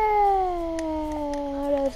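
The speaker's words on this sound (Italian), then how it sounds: "non riesco a prendere il gatto?" Video-game cat gives a single drawn-out meow, a clear tonal cry that slowly falls in pitch over about two seconds, standing alone without talk.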